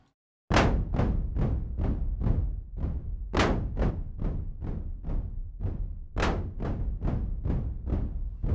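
A synthesized pink-noise drum without a comb filter, broadband noisy hits repeating in a steady rhythm with a louder accent every few beats, each hit decaying quickly.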